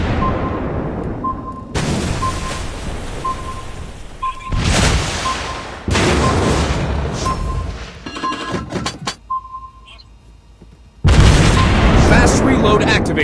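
Torpedo explosions in a naval battle video game, several heavy booming blasts that cut in abruptly, interspersed with beeping alerts and game sounds.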